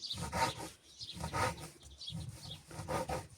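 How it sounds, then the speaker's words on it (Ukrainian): A knife cuts a cleaned herring fillet into small squares, giving close, rhythmic rasping strokes in several short bursts with brief pauses and no talking. "Беремо наш оселедець і нарізаємо його квадратиками."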